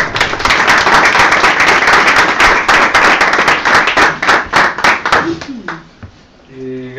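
An audience claps to welcome speakers at a talk, a close, loud burst of many hands that thins into scattered individual claps and dies out, followed by a speaker beginning to talk.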